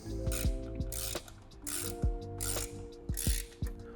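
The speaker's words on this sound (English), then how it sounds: "we're gonna start by tightening the 3 screws along the down tube" Ratcheting clicks as screws are tightened on an e-bike in-frame basket along the down tube, several bursts of close, steady pawl clicking with brief pauses between strokes.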